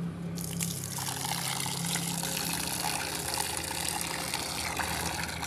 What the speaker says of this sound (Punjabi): ਇਹਨਾਂ ਨੂੰ ਮੈਂ ਪਾਣੀ ਪਾਉਂਦੀ ਹੈਗੀ